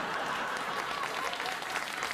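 Studio audience at a late-night talk show applauds steadily, a dense even wash of clapping heard at a moderate distance throughout.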